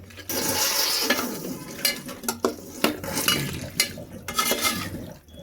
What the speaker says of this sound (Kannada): ಫುಲ್ಲು ಮಸಾಲೆ ಹಿಡಿಯೋವರೆಗೂ ತಿರುಗಿಸ್ತಾ ಇರಬೇಕು